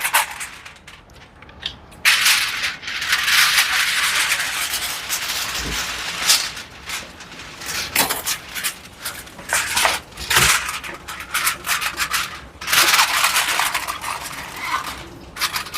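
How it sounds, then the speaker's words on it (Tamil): Crinkly, rustling aluminium foil is handled in bursts of bright crackle as it covers a container of homemade ice cream, close by, with brief pauses and a few soft knocks; no one speaks. "அதை இதை வந்து அலுமினியம் ஃபாயிலால் மூடி வைப்போம்"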